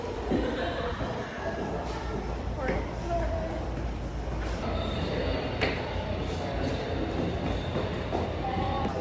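A train pulling into a station, with a steady low rumble and rolling wheel noise throughout under scattered voices and a few faint squeals and clanks.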